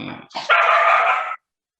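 A dog barks once, drawn out and fairly loud, standing alone right after brief talk in a classroom setting.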